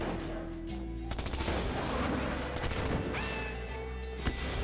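Gunfire in the video game Titanfall 3, with several sharp bursts of shots ringing out over a dense, busy game soundscape.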